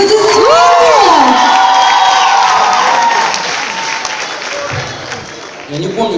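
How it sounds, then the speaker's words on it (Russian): A lively crowd at a youth music festival claps, cheers and whoops, loud and close, with a whistling tone and shouting voices mixed in before the noise eases. "Аплодисменты."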